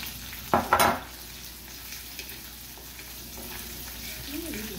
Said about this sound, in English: Then from there, I'm going to add my onions and peppers.